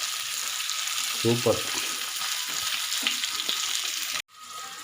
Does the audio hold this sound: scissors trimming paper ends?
no